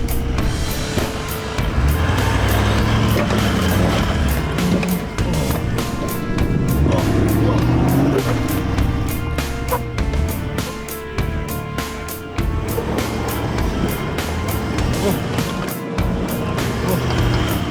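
An off-road truck's engine revs hard and continuously climbing a rocky hill, rising and falling in pitch with heavy low rumble and clattering, loud and close throughout.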